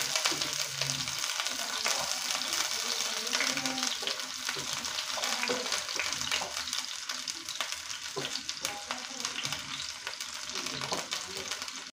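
Spices hiss and sizzle steadily in hot oil in a pan, the start of a mackerel chili curry, with occasional stirring scrapes over a constant close frying crackle.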